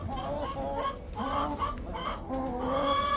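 Chickens on a ranch cluck in short repeated calls during an arctic storm, steady wind noise underneath, moderately close and not loud.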